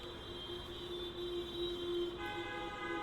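Toy horns honked by children, steady tooting tones that hold for a few seconds and shift pitch partway through, faint behind a continuous background hum, with no speech.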